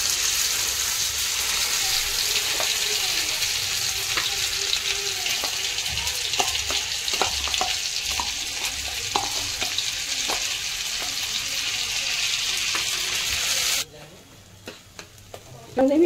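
Grated carrots frying in ghee for gajorer malpoa, a steady close sizzle with scattered scraping stirs, cutting to near quiet for the last couple of seconds before a brief burst returns.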